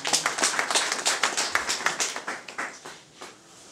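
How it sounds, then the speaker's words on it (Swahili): A crowd at a political rally in Kyanyari claps in quick rhythmic unison, sharp close hand strikes that thin out and fade near the end. "Tujipigie makofi."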